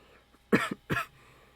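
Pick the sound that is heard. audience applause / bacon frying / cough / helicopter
cough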